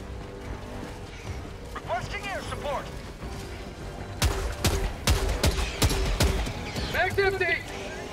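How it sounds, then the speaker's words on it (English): Grenade launcher fire in the Helldivers 2 video game during a mission against Terminid bugs: a run of sharp, loud bursts and blasts in the second half, following a stretch of game ambience with a voice talking over it. "I was only shooting grenades at you"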